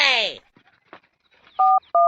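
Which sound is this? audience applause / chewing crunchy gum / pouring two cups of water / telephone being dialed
telephone being dialed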